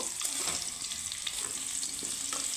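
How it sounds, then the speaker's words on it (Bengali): Pumpkin pieces fry in oil in a wok with a steady bright sizzle, joined by a few faint scraping stirs, close and continuous with no talking. "এখানে আমার কুমড়োগুলো সুন্দর লাল লাল করে আমি ভেজে নিয়েছি"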